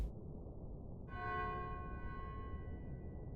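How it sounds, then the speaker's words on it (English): A chiming clock in the video game Final Fantasy XII strikes one clear, bell-like tone that rings out and decays slowly over a low background rumble. "And a chiming clock."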